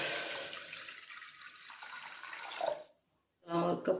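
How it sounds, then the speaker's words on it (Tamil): Water gushes and splashes steadily into a pressure cooker, tapering off to silence, then a short clatter of metal follows. "குக்கர்ல தண்ணி வச்சிடலாம்."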